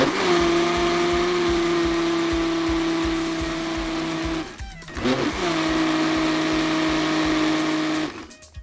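A loud electric blender mixing cake batter whirs steadily, briefly dropping and surging again as the motor speed shifts, then winding down at the end.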